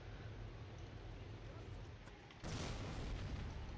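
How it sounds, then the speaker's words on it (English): Heavy mortar artillery barrage in Company of Heroes, deep booms and rumbling blasts under steady battle noise, with a louder burst of impact noise arriving partway through, while someone talks throughout. "the good old heavy mortar will also respond to this artillery call"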